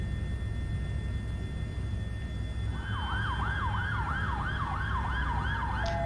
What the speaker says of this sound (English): Obviously, wouldn't really hear sirens this high up, but hey, why not?